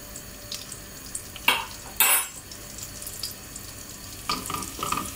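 Plain flour being stirred into olive oil in a pan makes a soft, low sizzle with a few sharp scrapes and clinks of the utensil against the pan, close by and otherwise fairly quiet.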